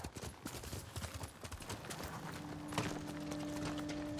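Horse hooves clip-clopping in the video game Ghost of Tsushima, a quiet, rapid run of steps that gives way to a steady hum.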